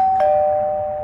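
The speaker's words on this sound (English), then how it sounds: "Well, I'll just ring the bell." A doorbell rings once at a house's front door, a single bright chime that holds a steady, clear tone and slowly fades, heard close and alone.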